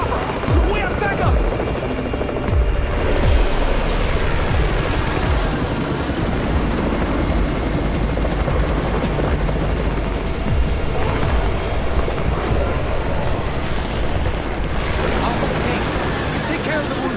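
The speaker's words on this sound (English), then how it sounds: "It's the Raven's chopper!" A helicopter arrives in the zombie survival game Undawn with loud, continuous rotor chop and engine roar, steady and close throughout, under occasional speech.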